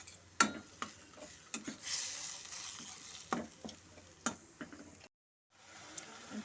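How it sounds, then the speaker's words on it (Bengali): Sour yogurt mixed with spices for katla fish rezala on a low flame, a soft sizzle under irregular scraping and clinking strokes of a spoon stirring in the pan, close and without talk, dropping briefly to silence near the end. "দইটার সাথে সমস্ত মশলাগুলোকে ভালো মতো মিশিয়ে নিচ্ছি।"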